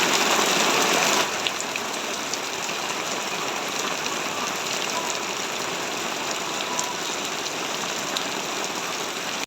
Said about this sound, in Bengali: কত বৃষ্টি হচ্ছে